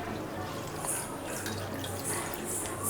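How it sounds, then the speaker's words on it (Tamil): Water pours in a steady, splashy stream into a metal pan holding palm jaggery for syrup, a soft continuous rush with faint clinks near the end. "ஒரு கிளாஸ் தண்ணி ஊற்றிக்கிறேன்"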